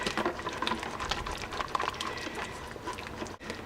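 A whisk working through thickening pot roast gravy at a boil in a pot, a steady busy scraping and bubbling texture that continues throughout at moderate loudness.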